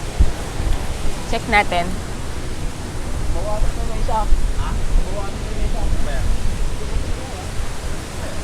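Strong beach wind at Bolinao, Pangasinan buffeting the microphone, a loud continuous rushing roar throughout, with people talking briefly over it.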